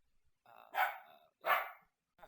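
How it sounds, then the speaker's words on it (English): A neighbor's dog barks twice, fairly close, with a short lower lead-in before the first bark and a clipped bark cut off at the end; the room is otherwise quiet. "We're watching a neighbor's dog"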